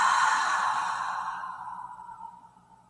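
One long, breathy exhale during a Kegel breathing practice, close and fairly loud at first, then slowly fading away over about three seconds.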